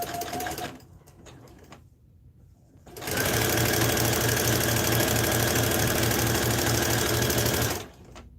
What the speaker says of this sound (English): that side is sewn together